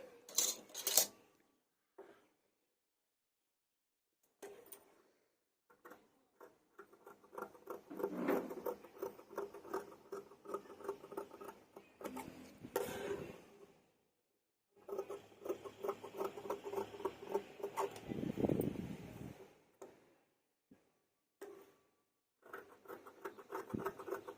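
Scissors cut through blouse fabric along a rounded, marked pattern shape, giving intermittent crisp snipping and scraping bursts separated by brief pauses, close and moderately quiet.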